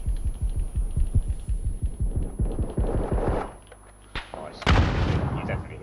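In the video game PUBG, a rapid throbbing rumble of in-game fire builds and fades, then a single loud, sharp grenade blast booms close by, followed by a short rumbling tail.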